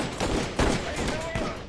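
Rapid gunfire from engineer troops in the real-time strategy game Iron Harvest, a dense crackle of overlapping shots with a few sharper bursts standing out across a busy battlefield mix.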